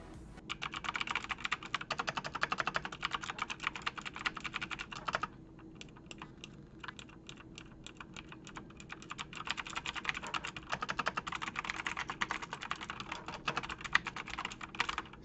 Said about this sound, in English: let me just go ahead and show you what the Razer sounds like